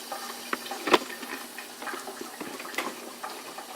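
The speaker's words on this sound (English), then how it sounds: "And we got our sauce boiling." Soft bubbling and hissing of sauce simmering in a pot, with a few louder pops and sputters over a steady low background.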